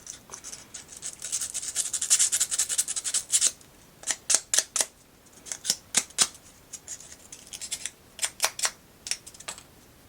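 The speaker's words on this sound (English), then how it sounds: "Find a piece of sandpaper to run between them." Sandpaper rubbing leftover glue residue off a mini dollhouse build, heard as a dense burst of close scratchy strokes followed by short separate rasping swipes in uneven rhythm, with no talk.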